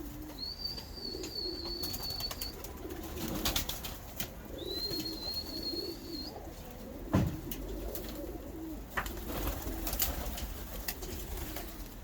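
Pigeons coo in low, soft, repeated murmurs throughout, nearby, with a couple of thin high whistles and scattered light rustling and a thump.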